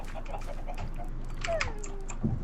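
Chickens clucking in Minecraft, a few soft short clucks and chirps spread across a quiet moment, fairly faint and close by.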